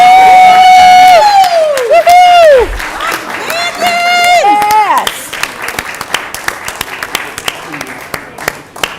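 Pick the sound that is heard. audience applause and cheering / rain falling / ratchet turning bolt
audience applause and cheering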